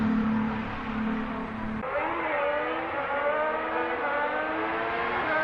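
A Mercedes Formula 1 car drives past on track with a rushing engine whine that rises and shifts, heard from some distance, then recedes.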